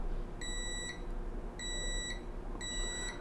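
Three sustained electronic multimeter continuity beeps, each about half a second, sound at a steady pace over quiet background noise during a phone repair test.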